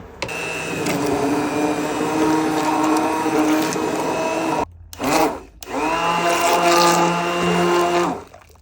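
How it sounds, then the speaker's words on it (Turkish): A hand blender whirs loudly in a pot of lentil soup with beef broth, running steadily, cutting off briefly, then whirring again before stopping. "Şimdi blender tutacağım."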